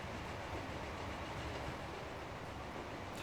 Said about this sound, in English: Oh, you beautiful train